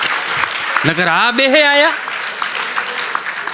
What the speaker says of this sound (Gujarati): એની એક વખત જોરદાર તાળીઓથી વધાવો